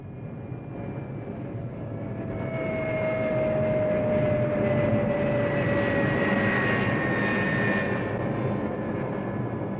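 A military aircraft at Da Nang, its engine drone with a whining tone swelling steadily louder as it draws near and then holding, no voices over it.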